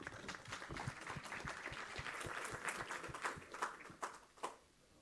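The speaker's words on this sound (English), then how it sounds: "Ladies and gentlemen, I think we can do with a bigger round of applause for such a stellar panel" Applause from a conference audience after a defence-dialogue panel, a dense steady patter of many hands clapping that swells slightly then tapers off toward the end, heard from within the hall.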